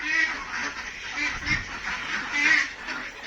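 Domestic ducks quacking on a farm, a busy flock calling continuously and overlapping at close range, with no talk.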